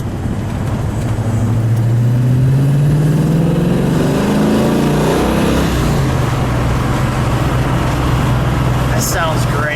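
The V8 engine of a 1969 Ford Mustang Boss 302 roars loud and close as it accelerates hard, its pitch climbing steadily through the gears with a raspy exhaust note.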